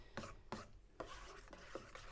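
A spoon stirring cheesecake batter with a sugar mixture for individually baked Dukan cheesecakes, heard as a few soft scraping strokes against a bowl, close up and quiet with no talking.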